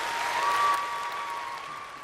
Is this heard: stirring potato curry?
no